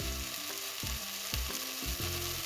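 Chili powder and ground spices sautéing in a pan for a curry, with a continuous close sizzle broken by several scraping stir strokes.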